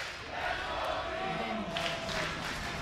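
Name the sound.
crowd chanting for G2 at Worlds in Berlin studio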